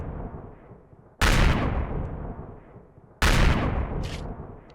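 Two heavy booming blasts from video game artillery cannons in Empyrion Galactic Survival go off about two seconds apart, each a sharp crack that rolls into a long rumbling decay.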